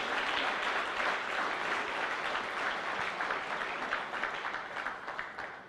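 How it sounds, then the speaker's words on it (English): Sustained audience applause at a U.S.–Ghana business forum keynote, a dense, steady wash of many hands clapping at even loudness throughout, with no voices breaking through. "I think we should give a round of applause to them for that."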